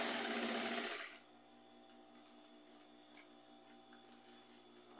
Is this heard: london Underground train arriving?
no